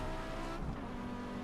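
Racing-game car sliding sideways with a continuous tire squeal over a steady engine drone, a GTO or Quattro in Assetto Corsa, loud and close throughout without speech.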